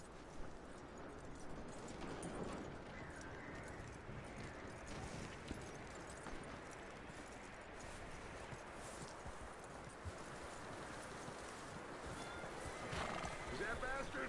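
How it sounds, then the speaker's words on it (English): Horse neighs and whinnies in Red Dead Redemption 2, mixed with clip-clopping hooves and steady ambient game noise, with voices talking over it throughout. "That looks like a decent horse."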